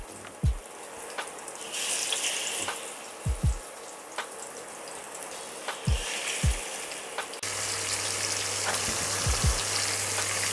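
Masala-coated fish laid flat in a hot pan to fry, a soft continuous sizzle with scattered sharp pops and spatters, the hiss brightening and thickening partway through.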